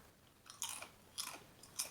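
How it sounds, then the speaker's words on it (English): Thick grain-free cassava chips crunch in three hard, crisp bites spaced about half a second apart, close to the microphone with no talking. "instead of a light, airy crunch, it's kind of a hard crunch."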